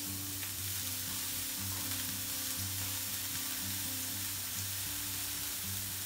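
Diced red onion and minced garlic frying in a pan with mustard seeds and curry leaves, a soft continuous sizzle with faint hum underneath, no voices.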